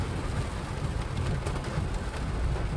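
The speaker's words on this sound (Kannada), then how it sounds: "ಹೆಂಗಿರು ಮಳೆ ಬರ್ತಿದೆ, ಹೋಗೋಕ್ಕಾಗಲ್ಲ, ನೆಂದು ಹೋಗ್ಬಿಡ್ತೀವಿ ಫುಲ್ಲು." Heavy rain pouring down outdoors on a rural off-road trail, a dense, steady hiss and patter filling the whole clip with no talking.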